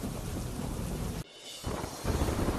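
Heavy night monsoon downpour in Poshina, Sabarkantha, Gujarat, a loud dense roar of rain with rumbling thunder that briefly drops away, then swells back stronger.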